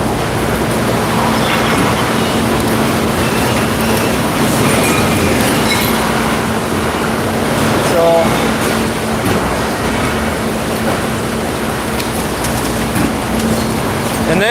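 A walking floor trailer unloading its load gives a loud, continuous mechanical grinding and rumbling with a steady hum and occasional clanks, sustained throughout at close range.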